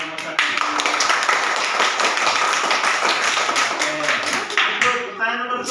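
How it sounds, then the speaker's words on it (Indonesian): Clapping in a classroom lesson, dense rapid hand claps mixed with tapping, fairly loud and close, with voices mixed in and a brief voice near the end. "Tepuk tangan dulu untuk nomor 1."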